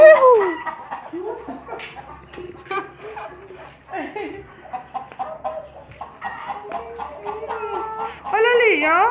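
Rooster and chickens clucking on a small country farm, calls rising and falling in bursts, with a child's and an adult's voices talking over them throughout.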